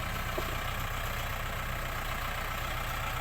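A Kubota tractor idles in a cassava field, its engine a steady, even low rumble that holds unchanged throughout with no voices.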